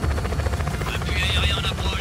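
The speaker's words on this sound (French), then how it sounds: "Foutu hélico." Helicopter in the video game Just Cause 4, a steady rotor thrum and buzzing drone close by throughout, with a rising whine on top and some talk over it.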